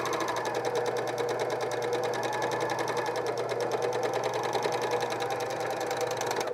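A sewing machine, serging or coverstitching underwear with picot elastic, runs at a fast, steady pace, giving a continuous rapid whirring chatter that stays close and even throughout.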